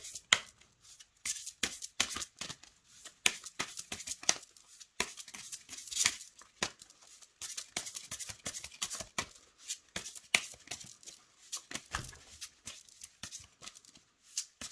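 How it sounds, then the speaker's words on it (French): Oracle cards being shuffled by hand in quick, crisp riffling bursts with short pauses, close and fairly quiet, with no talking. "Donc on va battre les cartes"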